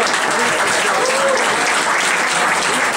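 Dense, sustained applause from an audience at an evening ceremony, loud and close throughout, with steady clapping and no pauses.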